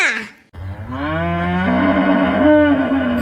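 A cartoon cow in a Tamil animated show lets out one long, loud, resonant moo after a short opening sound, sustained and close with a wavering pitch.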